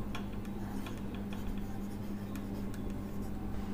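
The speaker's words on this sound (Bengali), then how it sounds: "এবার আমরা এখানে লিখব" Chalk or marker taps and scratches on a board during a chemistry lecture, faint short strokes in an uneven rhythm over a low room hum.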